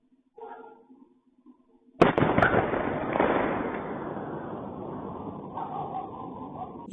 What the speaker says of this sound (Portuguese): é mais uma vez o barulho de uma explosão lá em Rostov